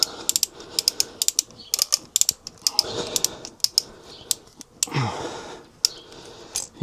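A Callicrate Pro Bander tool being ratcheted to tension a band, giving a rapid series of crisp, close ratchet clicks in uneven bursts, with a brief spoken phrase partway through.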